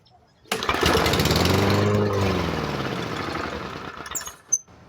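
A primed MTD 139cc OHV lawn mower engine with carburetor trouble fires up close by, runs with a rising then wavering drone for a few seconds, and sputters out.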